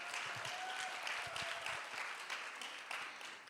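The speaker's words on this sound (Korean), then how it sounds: "박수! 박수, 박수," A church congregation at a baptism class applauds in a short burst of clapping, moderately faint and filling the moment with no speech.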